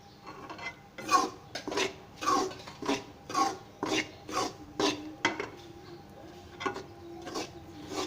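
A spoon scrapes steadily through gram flour (besan) cooking in oil in a metal pan for halwa, making a regular rhythm of close, rasping strokes against the pan bottom with no talking.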